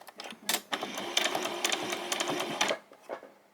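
A domestic sewing machine runs in a quick burst and stitches fabric for summer shorts, with a rapid close mechanical whirr that stops and starts briefly at the edges.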